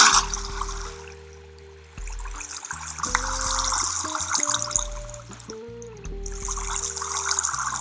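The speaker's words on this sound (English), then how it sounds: "The next thing I'm going to do is get some water and put water in both the corners." Water being placed in Minecraft trickles and splashes as a steady running-liquid sound, with layered game music tones underneath and no talking.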